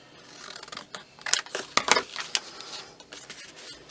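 Scissors cutting paper for a December Daily craft page, with a quick run of close, crisp snips and metallic clicks clustered in the middle, no voices present.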